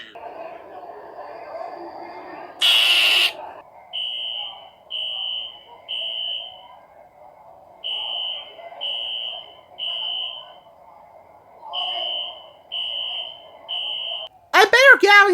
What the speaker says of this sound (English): why is the fire alarm going off?